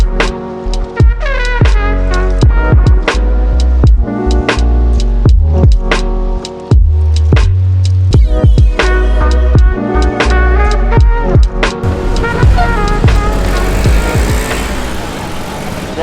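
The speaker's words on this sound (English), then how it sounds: "We just hopped in the tuk-tuk here." Tuk-tuk three-wheel motor taxi ride in Ica, Peru: a small engine putters steadily up close with rhythmic pulses and gear changes, loud and continuous with road noise building toward the end.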